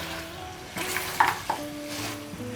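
Beef pieces stirred and fried in a pan for a spiced, slow-cooked Eid-style beef dish, with a steady low sizzle, a few clinks of the spatula against the pan near the middle, and no talking.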